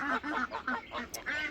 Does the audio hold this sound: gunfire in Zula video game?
no